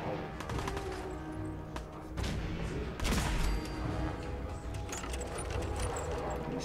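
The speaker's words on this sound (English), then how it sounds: "I guess this is supposed to be the most powerful gun then" Rapid bursts of gunfire from the most powerful gun in Fallout 4, loud and dense, with a heavier blast near the middle amid a continuous clattering din.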